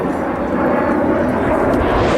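Blue Angels jets flying in diamond formation at a 1997 military air show at Quonset ANGB make a loud, steady roar that fills the whole clip with no break.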